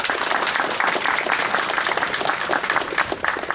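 An audience at a choir concert in Boncourt applauds the choir's songwriters with dense, continuous clapping that holds steady and fairly loud throughout.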